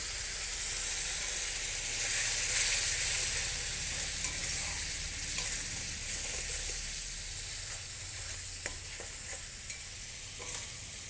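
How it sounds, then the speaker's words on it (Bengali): Fish masala sizzling and hissing steadily in a pan after a splash of water is added to the frying fish, with soft stirring scrapes throughout and no voices. "এবার একটু অল্প করে জল দিয়ে দেবো।"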